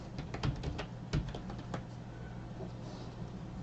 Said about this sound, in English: typing the word up here